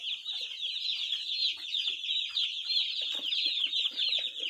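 Newly arrived chicks in a brooder give a steady, dense chorus of high peeping, close and continuous, with no voices.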